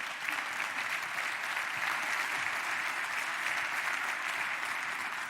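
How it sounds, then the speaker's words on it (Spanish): A crowd claps enthusiastically at the 2021 Vuelta a España route presentation, with steady, dense applause sustained throughout without pause. "Un aplauso para Miguel."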